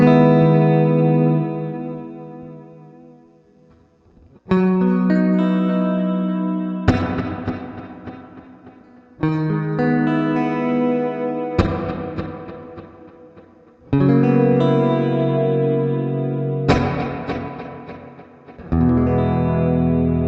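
Distorted electric guitar chords ring out one after another through a Collider Delay+Reverb pedal, each sustained and slowly decaying with a washy, echoing tail of delay and reverb.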